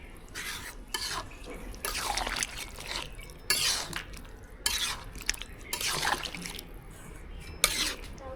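Water splashes into a Bogura-style beef and potato curry made with beef tilai and heart, arriving in several short, irregular pouring bursts, close and fairly soft, with quiet gaps between.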